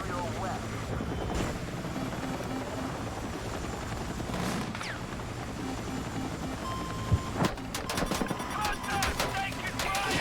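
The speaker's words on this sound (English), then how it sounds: "I'm gonna take the chopper to try get B or A." A helicopter flying in a video game, a steady rotor drone running throughout with bursts of gunfire and sharper impacts, while players talk over it.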